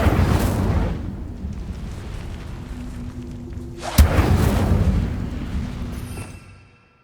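The Incendio fire spell in Hogwarts Legacy gives a roaring, whooshing blast of flame, with a second sharp burst midway that swells loudly and then fades out.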